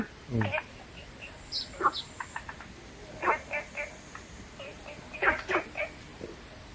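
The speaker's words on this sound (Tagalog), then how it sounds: "Ayan yung, ano, mga bibi na maliit." Small ducklings peep and chirp in short, scattered high calls outdoors, fairly close, over a steady high-pitched insect-like hiss and faint background voices.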